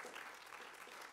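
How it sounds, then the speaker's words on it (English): A church congregation clapping during a Sunday sermon gathering: a soft, steady wash of applause, faint and somewhat distant, continuous through the moment without distinct individual claps or voices. "And go ahead, clap."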